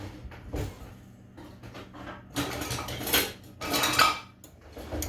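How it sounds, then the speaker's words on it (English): Dishes clatter and clank as they are set down into a farmhouse kitchen sink, in two dense bursts of ceramic and metal knocking after a quieter opening, close by and without speech. "let's put that in my beautiful farm sink"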